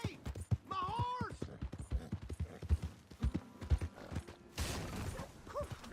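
Horse hooves clip-clopping in the video game Red Dead Redemption 2, a rhythmic series of clopping steps under game dialogue, with a brief whinny and a burst of noise partway through.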